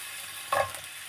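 Garlic, onion and carrots sautéed in a pan make a brief stirring scrape and sizzle, one short close burst over a low background hiss.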